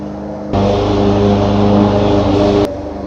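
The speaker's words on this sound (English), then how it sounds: "I've got a little lawnmower going on in the background" A small lawnmower engine drones steadily in the background, starting abruptly, holding an even mid-pitched hum for about two seconds, then cutting back to a quieter level.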